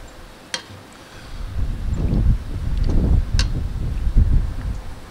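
Gusty outdoor wind where traditional Yakama bread is being made, low rumbling buffets against the microphone that rise and fall in waves, with a couple of faint clicks and no speech.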